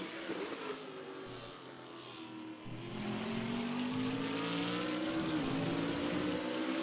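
A GT race car laps Brands Hatch in a sim racing game, its engine drone steady at first, then the revs climb into a louder, rising whine that holds alone without talk.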